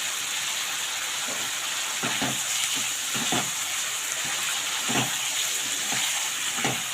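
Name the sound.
homemade garam masala frying in egg curry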